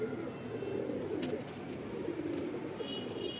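Mundi sada pigeons coo softly and continuously in a low, murmuring throb, with faint chirps and rustling over a steady background.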